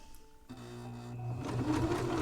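Sewing machine stitching a zigzag along the edge of a handwoven hand towel, a close, steady mechanical whir that starts up and builds into a fast, even hum.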